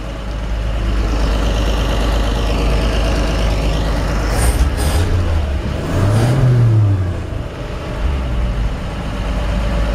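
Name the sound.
old pickup truck six-cylinder engine revving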